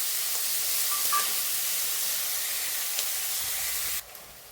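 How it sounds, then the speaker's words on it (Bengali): Onion sizzles steadily in a hot pan for dhaba-style rasuni palak, a spinach and garlic dish, with a loud continuous frying hiss that drops off sharply near the end. "এবার এই পেঁয়াজটাকে একটু ভালো করে ভেজে নিতে হবে।"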